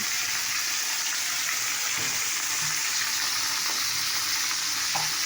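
Potatoes frying in a hot pan, a steady close hiss and sizzle running without a break, with a few soft clinks of stirring.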